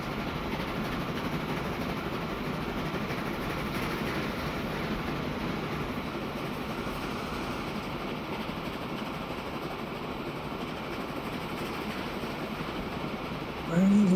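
A train runs on rails in the Transport Fever 2 game, giving a steady, unbroken rolling rumble that holds an even level throughout and swells louder just at the end.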